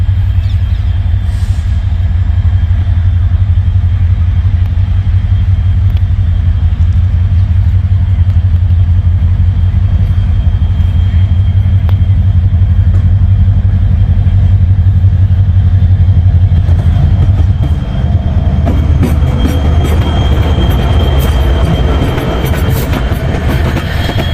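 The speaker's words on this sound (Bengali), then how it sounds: "সদ্য কোরিয়া থেকে আমদানিকৃত দুইটি কোরিয়ান লোকোমোটিভ এবং কোরিয়ান কোচ নিয়ে আজকে ঢাকার উদ্দেশ্যে রওনা দিচ্ছে দেখুন" Cox's Bazar Express pulls out behind a newly imported Korean 3000 series diesel locomotive with Korean coaches, a loud, continuous low engine rumble and rolling rail noise near at hand, growing rougher with clatter toward the end.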